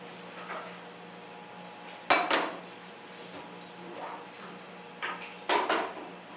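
A metal pot and a strainer are handled in a pastry kitchen while vanilla cream puffs are made, with a few sharp clanks and clatters spread over several seconds under faint kitchen noise.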